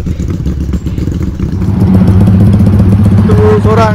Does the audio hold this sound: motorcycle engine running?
yes